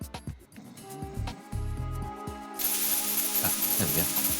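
A spray can hisses inside the Metal Gear Solid 2 game: a loud, broad continuous spray bursts in partway through and keeps going over faint game background sounds and clicks.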